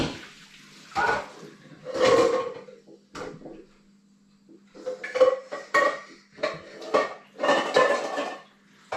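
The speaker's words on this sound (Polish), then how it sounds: "Trzeba odlać wodę." Water splashes and pours in short bursts with clanking of a pot, the sound of draining water from a pan of boiled eggs, close by, no talking.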